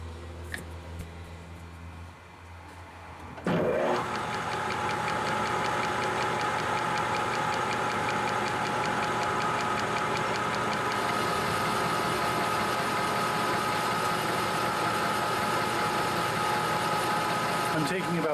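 A lathe turns a Morse taper (MT4) in light passes of about fifteen thousandths. After a quieter opening, a steady mechanical whir with fine rhythmic ticking starts abruptly at around three and a half seconds and holds evenly to the end.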